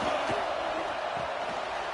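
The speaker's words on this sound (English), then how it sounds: "This crowd going to try to make life miserable for these guys." A stadium crowd roars in a steady, broad wash of sustained noise inside College Football 26, the game's crowd ambience filling the background behind the play.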